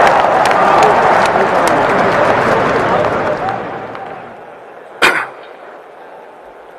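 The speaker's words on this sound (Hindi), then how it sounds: "ठोको ताली" Crowd applause and clapping at a Hindi political rally, a dense burst of clapping that fades over a few seconds, with voices in the crowd and a sharp knock near the end.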